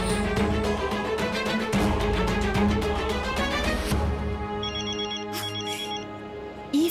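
A mobile phone rings inside a house in a Malayalam TV serial, its ringtone repeating steadily and fairly loud for several seconds before trailing off into quieter electronic chimes.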